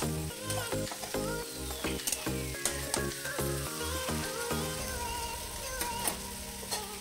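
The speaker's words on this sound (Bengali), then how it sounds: "এইভাবেই লো ফ্লেমে খুন্তি দিয়ে নাড়তে নাড়তে মশলার সঙ্গে ওই মটরগুলোকে খুব ভালো করে মিশিয়ে নিতে হবে।" Boiled peas frying with masala on low flame for street-style vegetarian ghugni, stirred with a metal spatula: a steady sizzle runs beneath repeated scraping and knocking strokes, with no talking.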